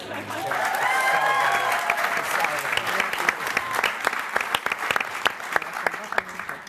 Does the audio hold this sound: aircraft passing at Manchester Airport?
no